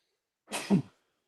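A single short, sharp sneeze bursts out close to the microphone during a podcast, alone against silence and lasting under half a second.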